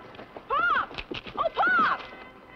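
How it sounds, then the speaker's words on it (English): A horse in a western TV series whinnies twice in close succession. The neighs are near and fairly loud, with soft rustling in between. "there's your horse, the one that got away"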